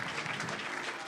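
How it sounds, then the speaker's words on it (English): A live studio audience at a San Francisco comedy talk show claps steadily, a dense, even wash of applause throughout. "ever notice how audiences always applaud themselves"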